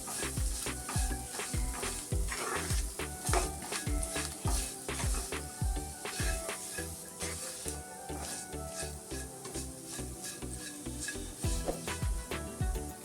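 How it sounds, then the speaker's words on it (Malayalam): Ground pepper and garam masala sauté in a pan for a mushroom roast, a steady sizzle with rhythmic spoon scrapes and stirring taps running throughout, close and fairly loud with no talking. "1 സ്പൂൺ കുരുമുളക് പൊടി, 1 സ്പൂൺ ഗരം മസാല എല്ലാം കൂടി ഇട്ട് വഴറ്റുക."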